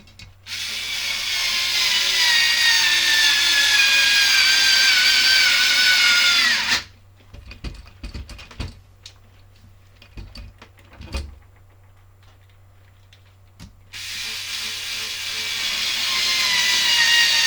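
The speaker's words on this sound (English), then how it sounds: "my electric screwdriver is struggling." An electric screwdriver drives screws into the chassis of an Xray XT8E RC car, with two long, loud whirring runs separated by a stretch of quiet clicks and handling noises.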